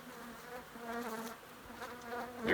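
A large bee colony in a home's ceiling gives off a faint, steady buzzing hum that swells and dips slightly, heard alone and close without talk.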